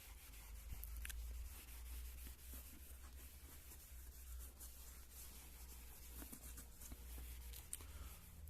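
A duster rubs writing off a classroom board during a maths lesson, producing faint, continuous scrubbing and scraping strokes close to the microphone with no talking.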